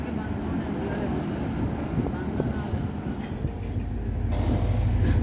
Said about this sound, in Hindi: अभी अभी ये रवाना हो रही है कराची और मीरपुर के दरमियान चलने वाली शाह लतीफ़ एक्सप्रेस